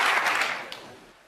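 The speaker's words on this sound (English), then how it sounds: "And listen to that hand from the crowd" Warm applause from a snooker audience at the World Championship final, loud at first and then fading away within about a second.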